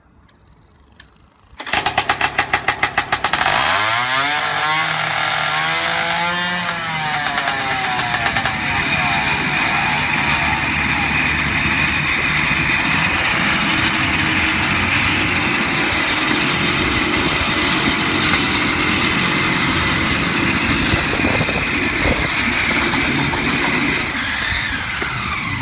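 A 48-cylinder two-stroke motorcycle engine fires up and runs loud and close, revving with rising and falling pitch before settling into a dense, steady roar that holds to the end.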